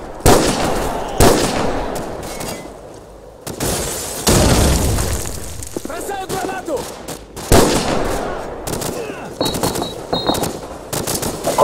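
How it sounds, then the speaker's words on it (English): Grenade explosion and gunfire in Call of Duty 4, with bursts of automatic fire, heavy booming blasts and scattered shots at varying distances, mixed with brief shouted voices. "Бросаю гранату!"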